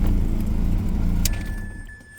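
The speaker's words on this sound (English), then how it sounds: "Let me shut the car off real quick." A Mazda RX-8 rotary engine, running rough from a bad MAF sensor, idles loudly and then is switched off, its rumble fading away with a faint electronic whine lingering after the shutdown.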